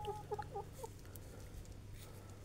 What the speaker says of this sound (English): Bedtime, little chickens.